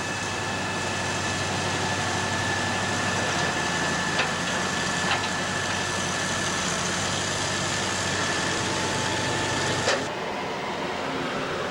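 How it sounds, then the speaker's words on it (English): A backhoe engine idles steadily at a middle distance during cleanup after a house fire, a low continuous rumble with occasional clanks on top, cutting off abruptly near the end. "Use the backhoe to do some cleanup."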